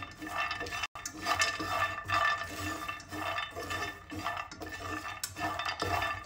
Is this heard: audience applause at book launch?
no